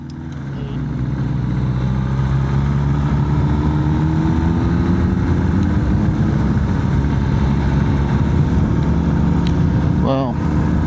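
A Suzuki GSX-S1000 motorcycle with a swapped engine runs at a steady loud drone throughout, heard close with wind and road noise, and a brief burst near the end.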